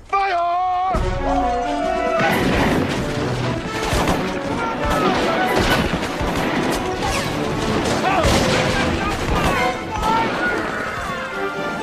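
Volley of rifle fire from a company of soldiers in a western, bursts of shots and crashes over dramatic orchestral music, loud and continuous, with a voice calling out at the start.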